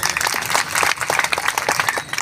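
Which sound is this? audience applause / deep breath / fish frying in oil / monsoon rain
audience applause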